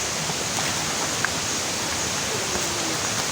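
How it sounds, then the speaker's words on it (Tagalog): A river in the Palawan forest rushes with a constant broadband wash, steady and near, a faint brief sound briefly rising above it. "Ang gandang ilog dito guys."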